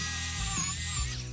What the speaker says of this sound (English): Let's just drill a pocket hole